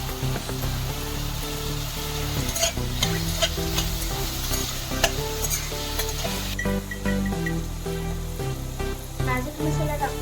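Tomato tossed into a hot frying pan for rava kachori filling, with constant loud sizzling and repeated clinks of a spatula stirring against the pan close by.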